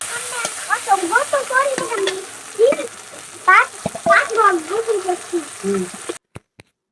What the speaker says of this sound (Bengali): আমি মশলা কষিয়ে নিব এখন